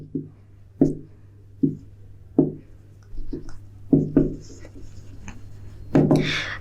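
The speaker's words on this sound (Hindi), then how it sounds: "यहाँ पे मैं लिख देती हूँ" Writing strokes on a board during an economics lesson: about seven short, scratchy strokes in an uneven rhythm, close and distinct, with quiet pauses between them and no talking.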